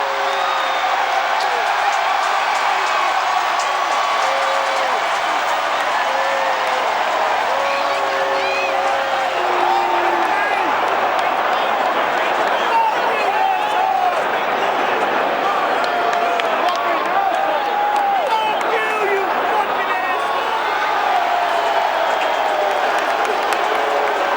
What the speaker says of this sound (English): Booing you can hear is because, well, in no uncertain terms, an idiot has just run onto the pitch.